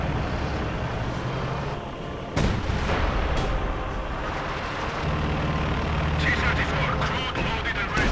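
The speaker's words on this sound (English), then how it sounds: "more incendiary artillery. So much incendiary artillery" Incendiary artillery shells in Company of Heroes 2 deliver heavy booming impacts over a dense, roaring battlefield rumble, with sharp blasts standing out amid continuous explosive noise and a voice talking over it.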